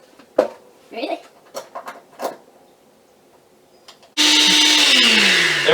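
A Hamilton Beach 10-speed blender starts up for a breakfast smoothie, a loud steady motor whir that kicks in abruptly after a few scattered knocks and voices, then runs continuously to the end.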